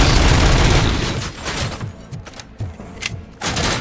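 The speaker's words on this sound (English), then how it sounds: "Stop with the anti-material rifles," Anti-materiel rifles and light machine guns fire in a Robocop video game, heavy rapid bursts and booming shots overlapping loudly in a dense barrage, with irregular thumping impacts toward the end.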